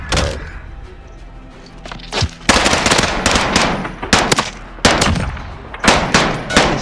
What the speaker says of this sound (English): Why are you shooting it like that?